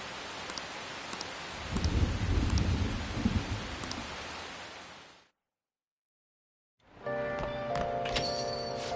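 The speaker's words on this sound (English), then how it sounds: "Rain, huh?" Steady rain falls in a PS4 video game, a soft even hiss with faint thunder-like rumbles for about five seconds. It cuts to brief silence, then a sustained musical tone takes over.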